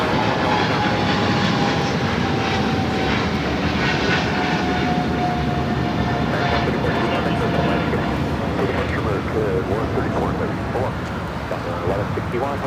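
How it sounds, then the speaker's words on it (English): A Boeing 777 bound for London Heathrow rolls down the runway for takeoff at LAX, its engines producing a continuous, loud, broad roar that holds steady throughout, with a voice talking over it. "got the 777 heading to London Heathrow,"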